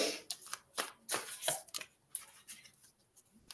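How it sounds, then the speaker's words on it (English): Tarot cards being shuffled by hand, a quiet, close series of soft papery slaps and flicks in uneven bursts with short pauses between them. "I'm shuffling again, so I'm going to pick one more."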